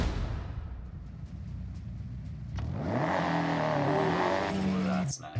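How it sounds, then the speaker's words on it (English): A rally car engine in the Forza Horizon 6 racing game, quiet at first, then revving up loudly and climbing through rising pitch sweeps before cutting off at the end. "That's how a rally car is supposed to sound."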